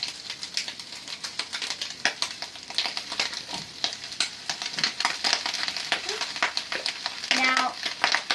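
Cooked sticky rice frying with ham in a hot pan for gluten-free ham fried rice, giving a steady close sizzle with dense crackling pops and scraping stir noises, and a brief tonal clink near the end.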